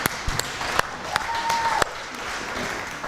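A church congregation applauds the drummer during a service, a steady, dense wash of clapping from many hands that fills the space evenly at a moderate level, with a few louder individual claps standing out.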